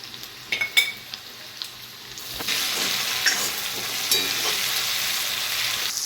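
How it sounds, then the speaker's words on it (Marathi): Carrot, cucumber and ivy gourd pieces frying in a pan, starting with a few light clinks and taps before a steady, close sizzle takes over and runs on unbroken. "गाजर काकडी आणि तोंडली जे कापलेलं होतं त्याला आपण फ्राय करून घेतो"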